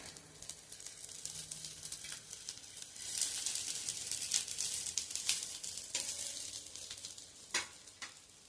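Corn tikki patties shallow-frying in a little oil in a pan, giving a steady close sizzle with soft crackles and occasional sharper spatters, no talking.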